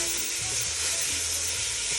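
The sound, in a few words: ground beef sizzling while browning in pan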